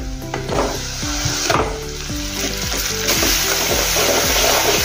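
Tomatoes tipped into hot oil already frying onion, green chili and ginger-garlic paste give a steady, loud sizzle that holds for several seconds, with a faint tonal hum running beneath it.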